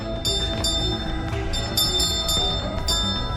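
A bell rings in a few quick, repeated jangles over a busy, rumbling background, the strikes bright and close.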